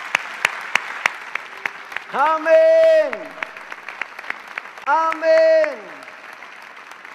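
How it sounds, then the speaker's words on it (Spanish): A church congregation claps and cheers during a Spanish-language prayer service, with steady scattered applause running throughout while a voice twice calls out in sustained, sung-like phrases over it. "Dale otro fuerte aplauso al Señor."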